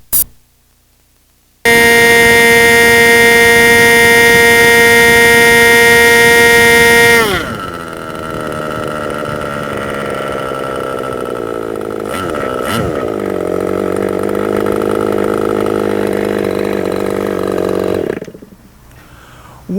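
A ModelSport MS0305 model airplane engine fitted with an ultra thrust muffler screams at high, steady pitch, then drops to a lower, rougher drone with brief wavering dips before cutting off. It is loud and close throughout, preceded by a short click and silence.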